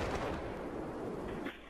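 Video game gunfire comes as a dense burst of booming shots, loud and continuous for under two seconds, then cutting off.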